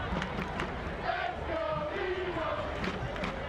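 A college football homecoming crowd at a Howard versus Georgia Southern game roars and chants in the stands, a dense, steady wash of many voices with a few shouted calls rising above it.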